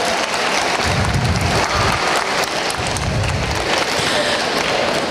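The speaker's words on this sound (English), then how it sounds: "That deserves a round of applause." At a national science fair awards ceremony in the Virgin Islands, a large audience applauds loudly and steadily, dense continuous clapping filling the room for several seconds.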